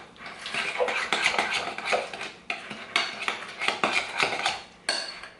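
A spoon or utensil clinks and scrapes steadily against a bowl while muffin batter with vanilla and white sugar is mixed, a close, continuous stirring clatter with no talking.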